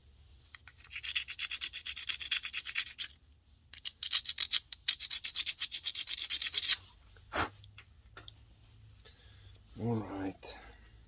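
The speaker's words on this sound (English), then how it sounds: "Just going to grind that ridge just a little bit" A hand grinder works a ridge on a knife blade in two bursts of close, rasping abrasion, each a few seconds long, followed by a few faint scrapes and a short spoken remark.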